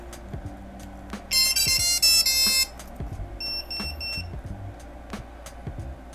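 A 7-inch long-range FPV drone's electronics chime on power-up: a loud burst of high electronic tones, then a shorter, fainter run of beeps, with low handling noises around them and no talking.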